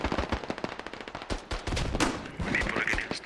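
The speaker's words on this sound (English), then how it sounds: "Automatic grenade launcher." An automatic grenade launcher fires in the shooter game Project Reality, a rapid steady string of heavy thumping shots, loud and close, followed by bursts and crackling impacts.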